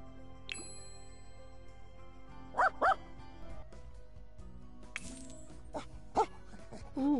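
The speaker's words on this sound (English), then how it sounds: "Ooh, a Dalmatian." Dalmatian dog in The Sims 4 gives a few short barks and yips, a quick pair, then single bursts, over soft game music.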